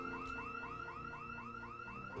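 A car alarm in the Project Zomboid video game wails in a rapid, repeating rising whoop, steady and continuous, with no other sound over it.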